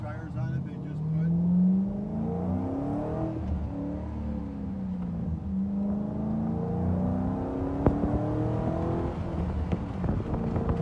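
A 2007 Ford Mustang GT Roush accelerates from inside, engine pitch rising and dropping repeatedly as it shifts up through the gears, moderately loud under occasional talk.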